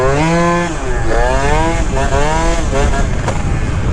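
A tuned Yamaha Jog 3KJ scooter engine revs loudly and close, its buzzing two-stroke pitch rising and falling in repeated sweeps, with a voice talking over it.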